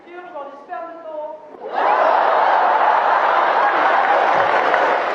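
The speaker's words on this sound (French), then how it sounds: "Je pense que c'est la première fois que tu dis ton taf et que 2000 personnes t'applaudissent." A stand-up comedy audience of about 2,000 breaks into loud, sustained applause right after a brief voice, the dense clapping rolling on evenly to the end.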